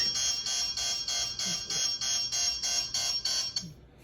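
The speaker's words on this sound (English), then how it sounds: "The alarm works." A Winees motion-detecting wifi security camera's shrill electronic alarm beeps in a fast, steady pulsing pattern for several seconds, then cuts off abruptly.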